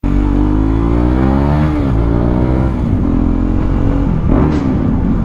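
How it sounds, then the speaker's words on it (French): Car engine with a non-original aftermarket exhaust revving loudly and continuously, pitch sweeping up and down through several throttle blips, close by with no talk. "Hop, ce pot d'échappement,"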